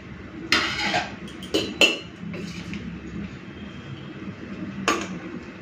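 Cooked rice is served from a pot onto a plate, with a few sharp metallic clinks and scrapes of a spoon against the pot and dishes between quieter pauses.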